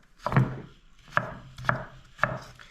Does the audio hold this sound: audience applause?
no